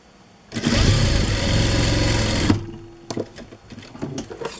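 A sewing machine runs a seam on a six-panel skirt dress: one loud, continuous whirring burst of about two seconds with a rapid needle chatter. It stops abruptly, followed by softer handling clicks and rustles.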